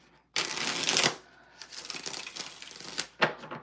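Tarot cards shuffled by hand in a quick riffle, a loud papery burst followed by softer rustling and slapping of the deck, then a final sharp flick, close and alone.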